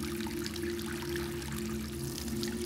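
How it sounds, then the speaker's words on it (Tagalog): Water poured into buckets at night, a steady continuous splashing pour with no talk over it. "ang pagbuhos ng tubig sa mga timba"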